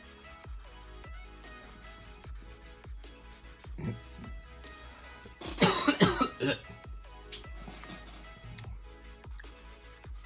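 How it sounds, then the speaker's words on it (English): A burst of harsh coughing stands out briefly near the middle, over a quiet background of soft ticking and faint rustles. "It's weird because I kind of want to brute force that cough"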